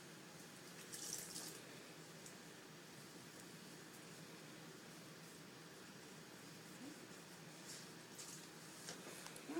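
Tap water runs steadily and faintly into a basin as a washcloth is rinsed during a nursing bed bath, with soft splashing swells and no talking.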